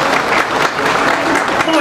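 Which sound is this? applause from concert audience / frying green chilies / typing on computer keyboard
applause from concert audience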